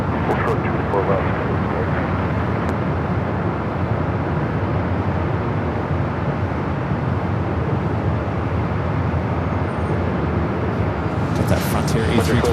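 Frontier Airbus A321 on runway 24 Left at Los Angeles International, a steady, loud jet roar holding broad and unbroken throughout, with no clear voices over it.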